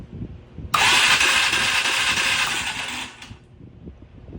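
A Polaris 425 ATV engine, just back from a starter wiring fix, whirs into a loud, dense crank-and-start burst of about two and a half seconds that cuts off abruptly. Low background noise runs before and after.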